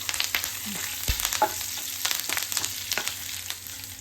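Green chillies, curry leaves and fennel seeds frying in oil for poha mixture: a crackling sizzle with frequent close spoon taps and scrapes in an uneven rhythm, with no voices.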